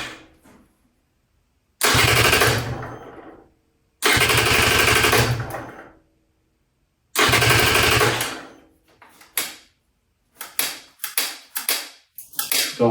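KTM 150 TBI motorcycle engine turned over with the spark plug wire off: three loud cranking bursts of roughly two seconds each, separated by silence, then shorter irregular spurts of cranking toward the end.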